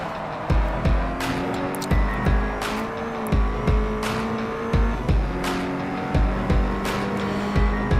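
A Toyota FR-S in Forza 4 revs hard through gear changes, its engine note climbing and dropping in a repeating rhythm with tire noise, loud and close with no talking.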